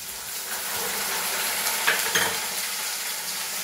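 Pineapple pieces cooking in a pan with fried cashews and raisins for kesari bath give a steady, moderate sizzle with a couple of faint spatula scrapes and clinks, and no one speaks.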